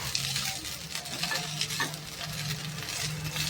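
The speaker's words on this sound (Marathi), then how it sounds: "आता आपण भातामध्ये टाकू यावरून मीठ थोडंसं, एकदम हलकसं. याला छानपैकी मिक्स करून घेऊ." Cooked jeera rice is stirred and mixed with salt in a hot pan, a steady soft sizzle with scraping and rustling from the spoon, up close and fairly quiet.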